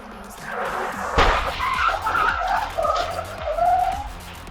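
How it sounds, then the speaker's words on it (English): Dashcam capture of a car pulling out at an intersection on SR 73 and being T-boned by a Jeep: tires screech and skid over road noise, a sharp impact thuds early on, then more scraping and squealing follows. "This car pulls out and gets T-boned by a Jeep on one of the dangerous intersections"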